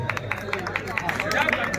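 Crowd at a Bhojpuri stage event in Buxar claps and cheers in a steady, dense patter of scattered hand claps. A loud hubbub of voices runs underneath throughout.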